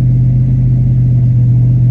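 Ford Mustang GT 5.0 with a cammed pushrod V8 and aftermarket exhaust: a loud, steady, deep engine drone held close by, with no talking over it.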